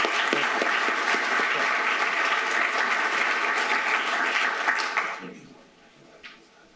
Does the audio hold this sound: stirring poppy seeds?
no